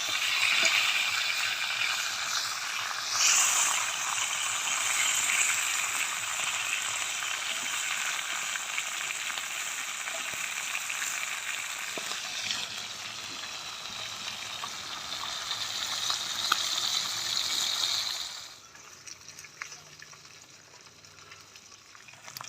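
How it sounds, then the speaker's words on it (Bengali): Rohu fish head frying in a pan with oil, a steady close sizzle with crackling spits that drops off sharply near the end as the heat fades or the pan is moved. "মাছের মাথাটা উল্টো পাল্টে ভেজে নেব।"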